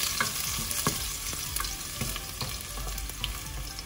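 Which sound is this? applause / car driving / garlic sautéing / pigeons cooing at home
garlic sautéing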